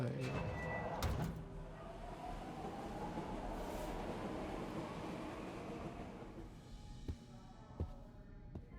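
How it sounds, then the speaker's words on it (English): A train rumbles steadily close by, a broad continuous roar with rattling and a few sharp clanks near the end. "We live next to a train."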